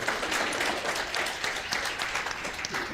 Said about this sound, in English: A round of applause to you also.